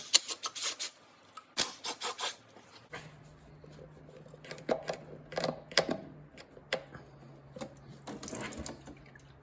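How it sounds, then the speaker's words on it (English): Old gasket material is scraped off a Dodge Caravan transmission pan in short, irregular rasping strokes with pauses between them, close and moderately quiet, over a faint low hum. "Okay, so I've got that kind of just scraped off a little bit."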